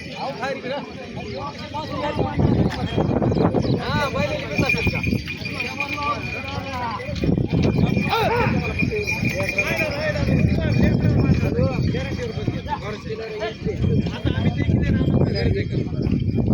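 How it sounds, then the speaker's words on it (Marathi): Bullocks walk in pairs at the Gangakhed cattle market, their hooves clopping under steady crowd chatter and nearby voices that run through the whole stretch. "बघू शकता तुम्ही बैल कसे चालतायत।"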